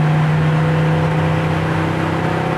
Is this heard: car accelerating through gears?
yes